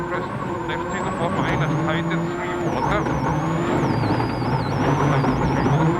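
Skoda Fabia rally car driving at the 2003 Rally Australia, its engine droning steadily and loudly throughout with shifting tones as it holds the line, under continuous commentary talk.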